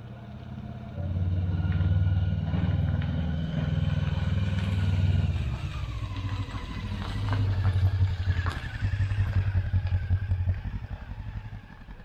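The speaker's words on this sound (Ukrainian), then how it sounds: "Ти замітив, що в мене дуже глушителя чути?" Honda CB500 motorcycle running with its engine and exhaust droning steadily, rising and falling slightly with throttle, loud and close, with wind noise and light clatter and no talk.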